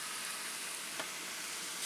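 Steady sizzling of beef frying in a hot pan, a constant hiss throughout with no talking.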